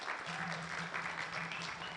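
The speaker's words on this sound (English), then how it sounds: "So why don't we give TSC a big round of applause so far?" Audience applause for the TSC at the launch of its 2023-2027 strategic plan, a soft, steady patter of clapping heard at a distance over a low background hum.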